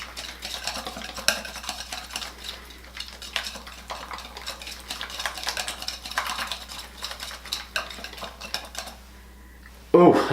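Umberto U Color 7.43 red hair dye stirred in a bowl, a steady close scraping and tapping of the brush against the sides, ending in a louder knock.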